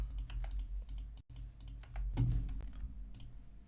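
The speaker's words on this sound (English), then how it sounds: "While I wait for my keyboard to work." Computer keyboard typing during a livestream of a football match: steady rapid key clicks, close and moderately loud, over a low background hum from the broadcast.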